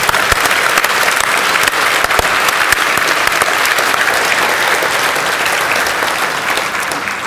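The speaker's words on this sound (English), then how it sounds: "I'd like you all to give Carl a good round of applause for..." A large conference audience at a Python Software Foundation address gives a loud, dense round of applause, with many hands clapping continuously and close up throughout, fading slightly at the end.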